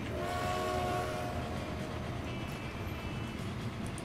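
A steam-era train from 1921 rumbles along in the rail management game Transport Fever, a steady loud wheel and engine drone with a faint horn-like tone early on, continuous and without speech.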